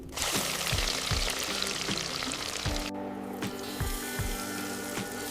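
Breaded shrimp coated in flour, egg and panko drops into hot frying oil, setting off a bright continuous sizzle and crackle with repeated soft pops and splatters close by.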